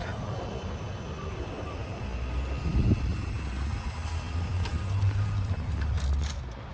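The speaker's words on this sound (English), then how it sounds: "Tram now." A tram rumbles past nearby on an Amsterdam street, a low heavy roll with faint metallic squeals over steady street noise.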